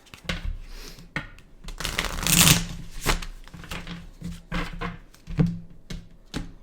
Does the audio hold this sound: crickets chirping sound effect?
no